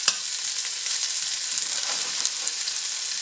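Ginger sizzles steadily in hot oil in a pot over high heat, a continuous bright frying hiss with a few small pops, close and fairly loud, no voices.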